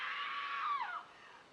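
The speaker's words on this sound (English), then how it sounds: "which is the shower scream from Psycho" A phone ringtone plays the shower scream from the film Psycho, a single loud, shrill, high-pitched scream that bends downward and cuts off after about a second.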